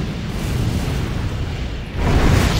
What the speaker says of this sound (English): Holy mother of explosions!